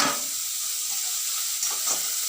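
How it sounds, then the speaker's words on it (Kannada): Beetroot fries and sizzles in a pan, a constant close hiss with soft scraping stir strokes near the end. "ಬೀಟ್ರೂಟ್ ತೊಗೊಂಡಿದ್ದೀನಿ. ಇದು ಹಸಿ ವಾಸನೆ ಹೋಗೋ ತನಕ ಹುರಿಬೇಕು"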